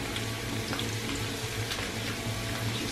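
Tap water runs steadily over hands at a kitchen sink, a continuous close hissing splash with small shifts as the hands move through the stream, no voices.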